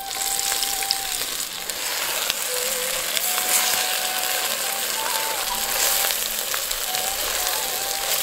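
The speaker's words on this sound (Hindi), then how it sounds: "टमाटर अच्छे से तल गए हैं अब तेल में तले हुए बैगन डाल लें" Fried eggplant drops into hot oil with fried tomatoes for an eggplant gravy, producing a steady, close hiss of sizzling that continues evenly throughout, with faint clinks and scrapes of a utensil.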